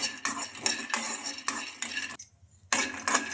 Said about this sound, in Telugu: ఒక కడాయి పెట్టేసుకొని అందులోకి పల్లీలు అయితే వేసుకోవాలి. ఈ పల్లీలను బాగా ఫ్రై చేసుకోవాలి.